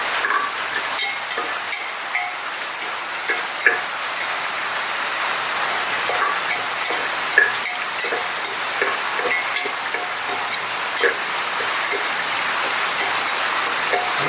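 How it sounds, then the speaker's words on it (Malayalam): Heavy rain pours steadily, a dense broadband hiss with scattered drop impacts, loud and continuous throughout, with no one speaking. "ഭയങ്കരമായ മഴയാണ്."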